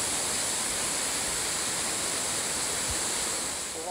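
A waterfall rushes down a rocky river, making a loud, steady broadband roar that holds unbroken and fills the whole scene with no voices.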